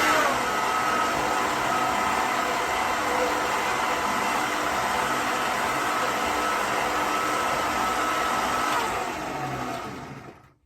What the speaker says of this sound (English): whisk that up again.